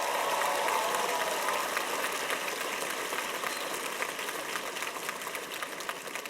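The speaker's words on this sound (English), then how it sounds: "Can we get a round of applause for this incredible woman?" Audience applause at a 2018 QCC commencement ceremony honoring Dr. Cole: a steady, dense wash of clapping from a large crowd that holds evenly throughout and fades slightly toward the end.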